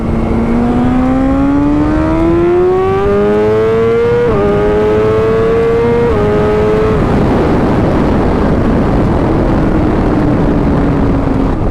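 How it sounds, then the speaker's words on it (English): A tuned 2020 BMW S1000RR motorcycle pulls hard from 60 to 130, its engine note climbing steadily through two quick gear shifts before fading into rushing wind noise. It is loud and close, with no talking. "I'm going to come over here and make a quick 60 to 130 pull."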